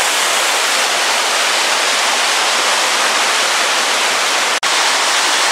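A waterfall surrounded by rocks roars loudly and continuously, a dense wash of rushing water with a brief dropout near the end.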